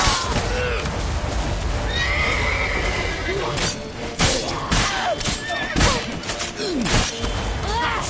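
A horse neighs and whinnies several times in The Witcher 3 amid thuds, hoofbeats and clattering action noise, with people shouting over it.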